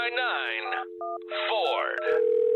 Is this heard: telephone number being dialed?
yes